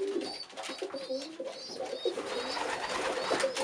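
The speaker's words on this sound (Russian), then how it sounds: "И вот такие у нас голубята." Pigeons tending and feeding their growing chicks in a loft, with soft cooing and chirping calls repeating throughout alongside faint rustling, close and fairly steady.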